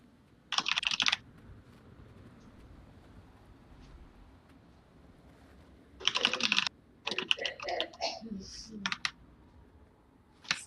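Quick bursts of fast typing on a computer keyboard, close and crisp, arrive in separate clusters of rapid clicks with quiet gaps between them.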